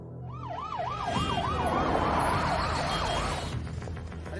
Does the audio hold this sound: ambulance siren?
yes